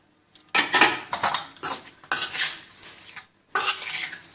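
Chicken with fenugreek leaves, spices and oil being mixed in a pot, with three bursts of close, clattering utensil scraping and clinking separated by short quiet pauses.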